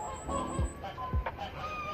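A gander honks repeatedly among domestic fowl outdoors, a few loud nasal honks rising over a busy background of distant bird calls and a steady high whine.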